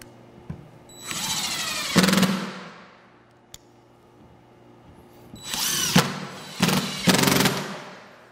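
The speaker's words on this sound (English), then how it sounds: "now we're going to take our driver here and start installing screws" A power driver sets screws into rail ties in two bursts, each a loud rising whir that ends in a short, strained grind, with a quiet pause between them.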